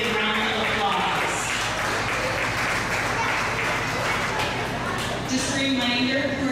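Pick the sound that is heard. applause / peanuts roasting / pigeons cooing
applause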